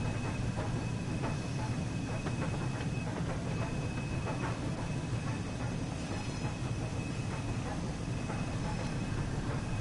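Double-headed Class 20 and Class 37 diesel locomotives in Highland ScotRail livery in Train Sim World 5, heading toward Edinburgh, with a steady rumbling engine drone and rolling wheel noise throughout, close and continuous.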